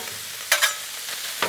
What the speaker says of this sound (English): So what I'm gonna do is kind of spread this bacon out a little bit because I want to use some of my bacon grease to smash some taters in.